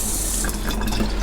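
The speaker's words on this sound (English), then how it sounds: "Hot and cold running water" Hot and cold water runs from a drop-down tap into an under-counter sink in a campervan kitchen, making a steady, close splashing stream with no voices.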